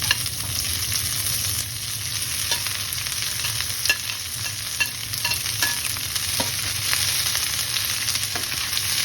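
Shredded cabbage sizzles and fries in a hot pan with scrambled egg, a steady loud crackle with occasional scraping clicks of stirring throughout.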